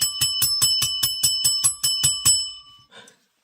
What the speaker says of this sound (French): on sort la cloche.